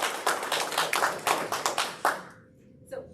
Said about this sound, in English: So I hope that we can give them a quick round of applause.